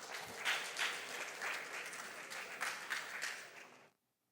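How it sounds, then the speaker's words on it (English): An audience at a junior science and maths quiz championship claps for the contestants, a moderate ragged patter of hands with small surges, stopping abruptly into silence. "Let's clap for them"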